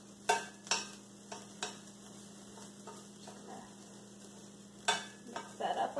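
Garlic sizzling in a frying pan during quesadilla prep, a quiet, steady sizzle broken by several sharp scraping clicks of stirring utensils against the pan, with a low steady hum underneath.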